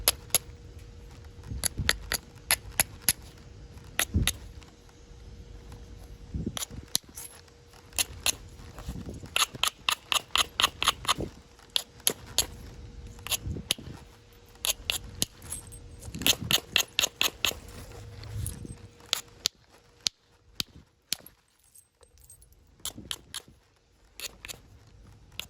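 A sandstone hammerstone knaps a stone, trimming and evening its edge with sharp clicking strikes, often in quick bursts of several taps separated by short pauses, close and fairly crisp.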